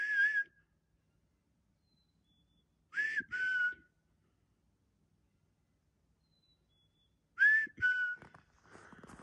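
A man whistles three short, bright bursts separated by silent gaps, imitating a mockingbird's call outdoors, with a faint rustle at the end.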